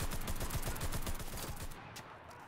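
Rapid automatic gunfire rattles in a fast steady rhythm during a match of the video game Enlisted, loud and close, then thins out into scattered shots toward the end.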